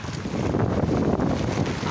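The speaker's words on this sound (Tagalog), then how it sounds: "Malakas yung hangin." Strong gusty wind buffets the microphone while fishing by the water as rain sets in, a heavy, continuous low roar with rushing texture and no voices.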